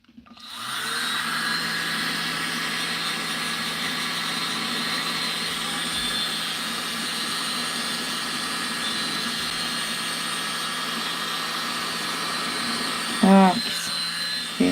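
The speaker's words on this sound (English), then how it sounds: "Should we use this or the mini blower?" A mini blower pushes air over an acrylic pour painting on coasters, giving a steady, fairly quiet whirring hiss that runs almost without a break, with a short clatter near the end.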